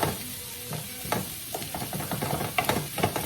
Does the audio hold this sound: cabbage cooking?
yes